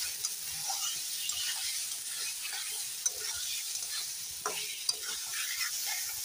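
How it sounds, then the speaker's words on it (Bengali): Kashmiri chili powder being stirred into cauliflower frying in a pan, a steady soft sizzle with scraping stir strokes and a few sharper clinks, close and continuous with no talk. "দেখো কাশ্মীরি লঙ্কার গুঁড়োটা দিয়ে একটু ভালো করে নেড়ে দিই।"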